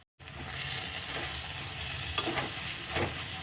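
A sesame and coconut mixture being stirred in a hot pan gives a steady sizzle with soft scraping strokes. It starts after a brief silent moment and runs continuously and close, with no voices.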